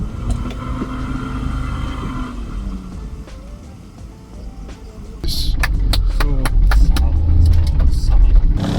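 A car engine runs steadily with low rumble, rising louder and rougher after a few seconds as it revs, with occasional clicks and knocks over the top and a voice talking in the first part.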